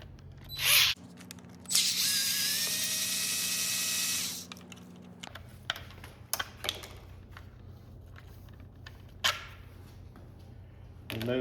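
A powered driver whines for a few seconds as it backs the Allen bolt out of the head of a Minn Kota Ulterra trim motor. Scattered clicks and small metallic handling noises follow, close and fairly quiet, with a brief burst near the start.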